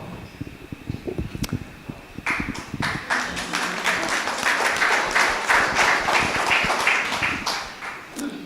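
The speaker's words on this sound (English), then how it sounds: "I appreciate the applause" An audience at a strategic plan launch breaks into applause after a quiet start; dense, even clapping builds after about two seconds and holds steady to the end.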